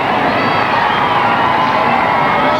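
A dense crowd cheers as a royal wedding procession passes, a loud continuous roar of voices and shouts filling the whole stretch without letup.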